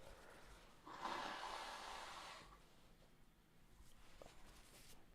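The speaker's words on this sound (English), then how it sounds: "Let me blow my nose real quick." A person blows their nose in one strong, breathy burst lasting over a second, close to the microphone, followed by quieter rustling and breathing.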